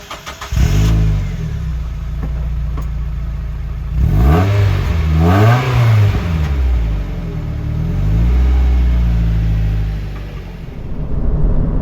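A 2002 Mazda Miata pulls away on the road, its engine rising through several loud revving gear pulls with shifts in between, heard close from inside the car without talking.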